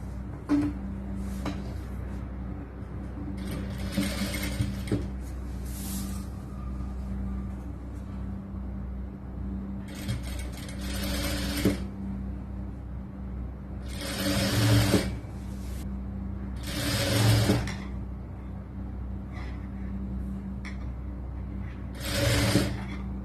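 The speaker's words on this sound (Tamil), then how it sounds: "அடுத்தது கை துணியை இந்த பக்கத்துல இருந்து தைக்கலாம்" A sewing machine stitches the sleeve fabric of a lined 4XL churidar top during tailoring work, running in steady bursts of rapid mechanical whirring separated by short pauses, loud and close.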